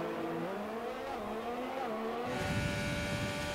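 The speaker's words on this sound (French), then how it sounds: "ce moteur Toyota impressionne par sa vitesse" A Toyota-engined Formula 1 car in the F1 2020 racing game accelerates hard, its high engine whine climbing through the gears with a brief dip at each shift, loud and steady from start to end.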